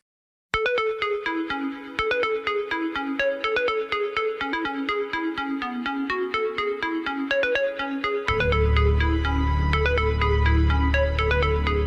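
A song plays as a phone ringtone, with bright, steady melodic tones starting after a half-second of silence and a fuller, bass-heavy section joining near the end; no voices.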